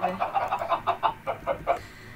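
Chickens in the Minecraft video game give a quick run of repeated clucks, fairly loud and close, with a faint voice in the background.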